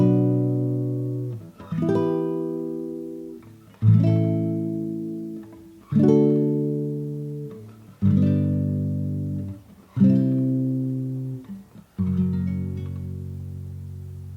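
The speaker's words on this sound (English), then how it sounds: "I'm going to play all of those chords in a row so you can hear kind of what they sound like together." An accordion plays a harmonic minor chord progression, six sustained chords struck one after another about every two seconds, each swelling and fading, close and alone.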